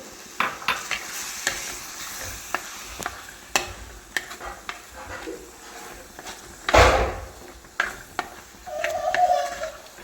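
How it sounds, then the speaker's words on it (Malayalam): A spoon scrapes and taps irregularly through cooked mango simmered with chili powder and turmeric for mango pachadi, with a few sharper clicks and one louder clatter midway, close and moderately quiet, and a faint murmur near the end. "അപ്പോൾ നമുക്കിതൊന്ന് ഇളക്കി കൊടുക്കാം"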